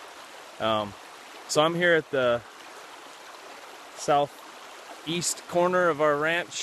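Keithley Creek flows steadily in the background at a ranch, a constant soft wash of running water beneath someone speaking.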